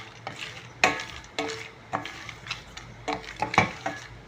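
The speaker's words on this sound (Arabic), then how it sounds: "احنا كده بنحمصهم مع بعض في الزبدة" Nuts and basmati rice toasting together in butter in a pot, a soft sizzle broken by repeated scraping stirs of a spoon, several distinct strokes at an uneven pace, close and fairly quiet.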